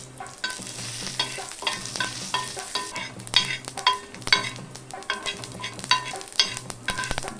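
Chana dal, urad dal, mustard seeds and cumin pop and crackle in hot oil for tempering, with steady sizzling and the occasional scrape of stirring.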